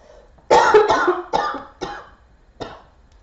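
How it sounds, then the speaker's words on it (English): A person coughs several times in a row, loud and close, with short pauses between the bursts, each trailing off quickly. "hold on, I'm going to cough."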